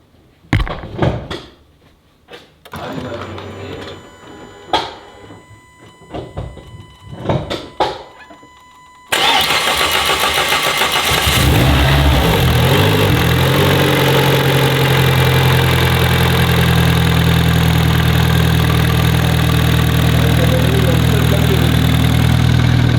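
Renault Mégane RS engine starting for the first time after a rebuild, preceded by several clunks and door thuds, then an abrupt loud catch into a steady, rough, close idle that holds for over ten seconds.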